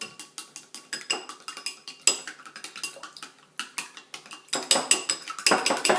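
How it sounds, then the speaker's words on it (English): Eggs are whisked in a bowl for fried rice, a quick, steady run of metallic clinks and taps as the whisk strikes the bowl, close and fairly loud, growing busier toward the end. "Then we whisk the eggs."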